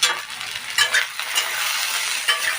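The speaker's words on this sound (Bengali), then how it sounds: "করলা আলু আমি 5 মিনিট এইভাবে নেড়ে চেড়ে ভাজা ভাজা করে নেব।" Bitter gourd and potato pieces sizzle and fry in a pan, with a spoon stirring and scraping them in a steady run of crackling scrapes. The sound is close and fairly even, and no one speaks.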